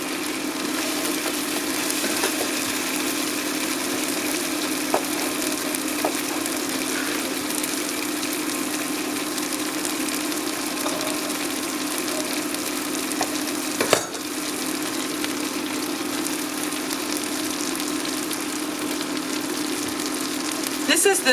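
Bread cubes browning in butter in a pan over low heat give a steady, even sizzle throughout, with a single sharp clatter partway through.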